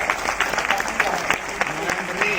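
Audience applause at a direct-selling industry event: dense, steady clapping from a crowd, fairly near and filling the whole short stretch, with some voices mixed in.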